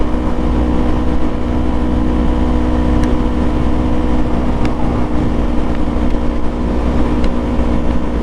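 A motorcycle engine runs steadily while riding, a loud continuous drone with a constant low hum and wind-like roar throughout, no voices.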